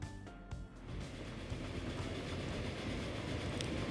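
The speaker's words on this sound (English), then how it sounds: "So that's our new train." A train from the Transport Fever 2 video game runs along rails with a steady, low rumble and rolling clatter that builds slightly after a brief pause near the start.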